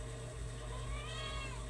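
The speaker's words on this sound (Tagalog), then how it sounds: "Tinatawag niya yung ibang kuting pero di naman kanyang anak." A cat meows calling to kittens, a drawn-out, wavering cry that rises in the second half, moderately close over a steady low hum.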